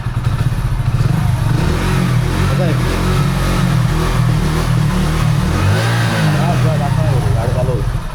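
A motorcycle just back from a full service, its engine idling loud and close with a steady low thrum and some light revving and clatter, while people talk over it.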